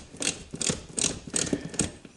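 A quarter-inch ratchet drives a mud flap screw on a 2023 Volvo XC90. Five quick, close clicking strokes come in an even rhythm with no talk.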